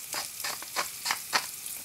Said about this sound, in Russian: Я пока что перемешиваю лук и начинаю жарить вместе с миндалем.